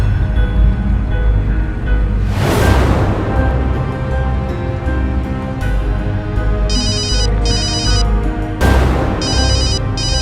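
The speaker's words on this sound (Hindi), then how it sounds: "फोन आया जी, 1 मिनट।" A mobile phone rings in a moving taxi on a highway near Mathura, two bursts of bright electronic ringtone pulses over a steady engine and road rumble, with loud whooshes of passing vehicles.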